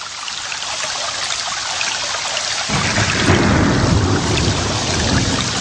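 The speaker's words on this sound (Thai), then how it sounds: "ยิ่งสายฝนกระหน่ำแรงเพียงใด ก็จะชะเอาความสมบูรณ์ของผืนดิน" Heavy rain pours down on mountain slopes amid a thunderstorm: a dense, loud hiss of downpour throughout, with a deep rolling rumble of thunder swelling in partway and continuing beneath the rain.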